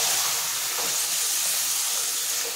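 Marinated mutton with garlic and green chili frying in a hot pan, a loud, continuous hissing sizzle close by with faint scraping of stirring underneath, no talking.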